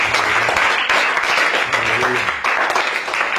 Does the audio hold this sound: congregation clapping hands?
yes